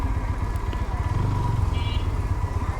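A GPX Demon motorcycle engine chugs low and revs up briefly as it pulls through a muddy, rain-soaked road, a close, throaty rumble that swells and then settles.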